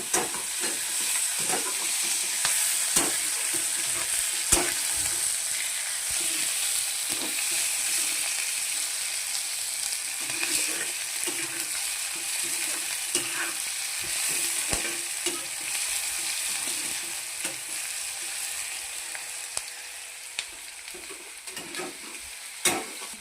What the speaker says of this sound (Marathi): आणि मग त्याला आपल्याला परतून घ्यायचं आहे.